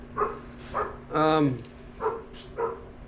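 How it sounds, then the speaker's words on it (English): A dog barks five times at a distance outside a garage, spaced out in a loose rhythm, over a faint steady hum. "So you hear Murphy out there barking."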